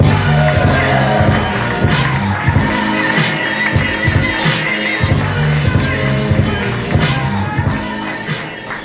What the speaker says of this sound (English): Keep them hands clapping for your next comedian.